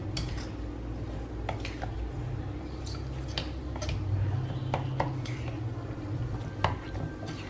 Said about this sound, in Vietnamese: mắm nó còn nằm ở dưới á, mình phải múc lên để mình trộn cho nó đều lên